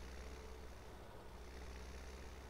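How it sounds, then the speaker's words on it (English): Tractor engine running steadily in Farming Simulator 2017, a constant low rumbling drone with faint broadband noise throughout and no talking. "So I'm gonna run this tractor."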